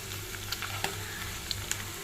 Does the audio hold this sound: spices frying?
yes